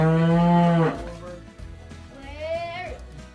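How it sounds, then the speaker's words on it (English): Cattle bawl for their calves on a farm: one loud, drawn-out moo up close, then a second fainter, rising call after a short gap, with low rumbling background. "they keep bawling for, Finn. For their calves."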